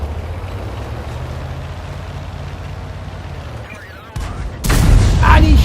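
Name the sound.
M44 tank gun firing in a tank video game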